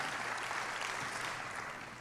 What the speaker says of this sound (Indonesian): Tepuk tangan buat Tuhan Yesus kita yang luar biasa.